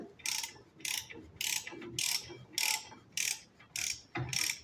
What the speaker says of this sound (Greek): Θα σφίξουμε τις βίδες μας.